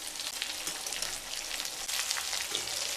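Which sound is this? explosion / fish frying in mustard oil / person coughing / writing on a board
fish frying in mustard oil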